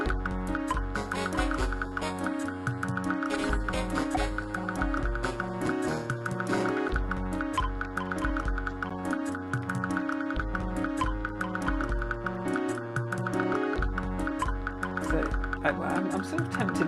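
Glitchy, somewhat odd generative music from the Infinite Music Machine app plays continuously and steadily, with layered sustained tones and busy, ticking, clicky textures running throughout without any voice.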